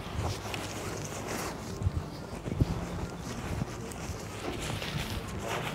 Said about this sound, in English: You can see the wind blowing hella hard right now.